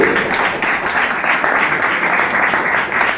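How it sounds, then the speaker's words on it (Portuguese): A church congregation applauds continuously, a dense, loud wash of clapping that stays steady and close for the whole stretch, with a few voices faintly mixed in. "Sempre aplaudindo a Jesus"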